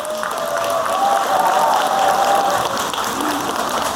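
An indoor audience at a 2024 lifelong learning achievement presentation in Goheung gives a sustained round of applause, a dense steady wash of clapping with a few scattered cheers.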